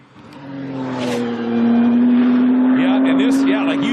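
A Ford GTLM race car, the Le Mans and Daytona winner, runs unleashed at a Laguna Seca time attack event, its engine note rising steadily as it accelerates, loud and close, with commentators talking over it.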